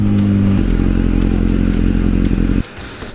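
Honda CBR1000RR Fireblade motorcycle idling loudly up close while being parked, with a steady low engine rumble and a shift in tone partway through before the engine cuts off near the end.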